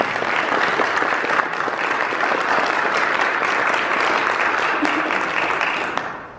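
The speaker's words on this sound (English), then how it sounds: "Can you just clap for yourself?" A church congregation claps together in sustained, dense applause that holds steady and loud, then tapers off quickly at the very end.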